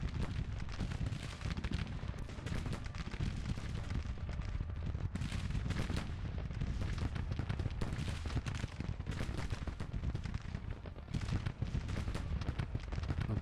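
Dense, continuous battlefield din of massed gunfire and booming artillery in the Civil War strategy game Grand Tactician, loud and unbroken throughout with overlapping shots and blasts.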